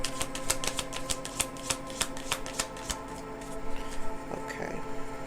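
A deck of cards is riffled and shuffled with rapid crisp flicking clicks, followed by softer shuffling and handling sounds.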